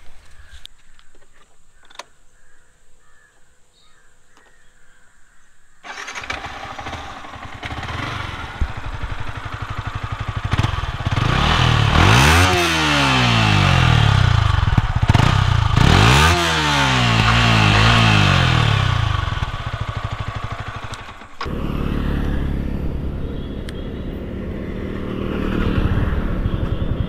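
A Yamaha MT-15 motorcycle fires up after a quiet start and settles into a steady idle, with two sharp throttle revs that rise and fall before it drops back to a rumbling idle close by.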